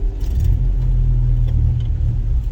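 A car engine straining in third gear gives a loud, steady low rumble and drone with no clear revving rise, heard close and with no talk.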